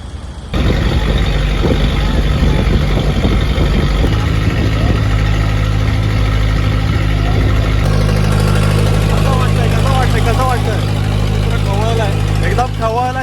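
A motor engine runs steadily and loudly close by throughout, with some revving near a rough sea, while a person talks over it.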